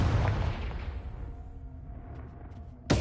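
A Confringo blasting spell explodes in Hogwarts Legacy, a loud broad boom that decays over a couple of seconds into a rumbling tail, followed by a sharp new burst at the very end.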